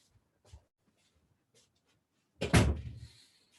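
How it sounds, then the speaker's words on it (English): An indoor door is shut with one solid thud and a brief ringing decay during a lecture, after a few faint small knocks in an otherwise quiet room. "I'm going to close the door to outside noise."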